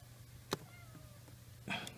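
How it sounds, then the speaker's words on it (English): A cat gives two short, faint meows, one near the start and a longer one near the end, over a steady low hum in a quiet space. "Get off of me, cat."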